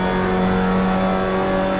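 A Mazda MX-5 race car in Assetto Corsa holds a steady, loud engine drone at high revs with a strong constant pitch and no voices.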